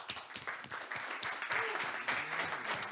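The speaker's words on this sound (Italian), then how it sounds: "Facciamogli un applauso." An audience at a Java user group meeting in Milan claps through the whole stretch, individual hand claps audible as a lively, fairly close patter with no speech over it.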